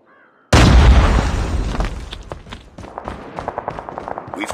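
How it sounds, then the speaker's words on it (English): A grenade goes off in a Call of Duty 5 vs 5 multiplayer match: a sudden, loud, close blast that booms and slowly rolls off, followed by scattered pops and crackles of gunfire. "Grenade out!"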